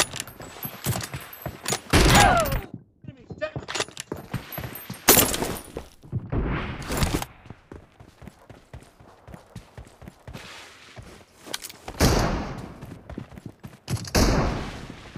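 Gunfire from an M24 rifle in a mobile shooter video game: loud, sharp shots in irregular bursts separated by quieter gaps, with clattering game sounds in between.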